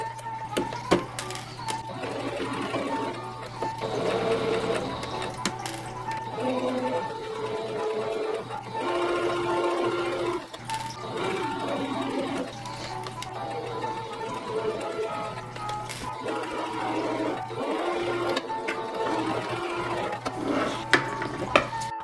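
A sewing machine hems the bottoms of homemade vintage-inspired pants, with stop-and-start bursts of running and whirring at moderate volume separated by short pauses and handling noises.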